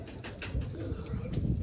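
Pigeons in a loft, including young squabs, coo softly in low murmurs against a hushed background, the sound faint and continuous with no talk.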